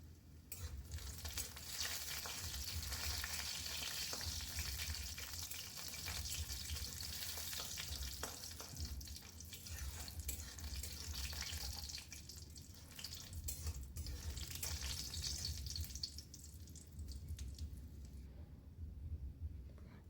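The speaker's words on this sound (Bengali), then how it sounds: "ডালের বড়িগুলো ভাজা হয়ে গেছে, খুব ভালোভাবে ভেজে নিয়েছি।" Urad dal bori fry in hot oil with a pinch of panch phoron, giving a loud, dense, continuous sizzle with faint stirring that lasts the whole time.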